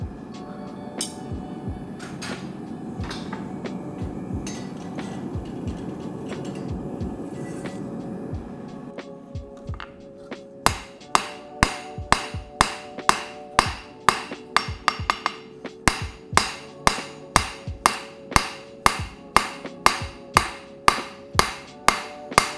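Hammer forging a nakiri kitchen knife blade, first a roaring forge fire, then a long run of loud, evenly spaced ringing metal blows on the anvil, close and without speech.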